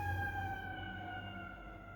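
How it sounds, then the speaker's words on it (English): A siren wails steadily at a distance, a sustained high tone over low rumbling background noise, faint and continuous. "bro, these sirens be wild"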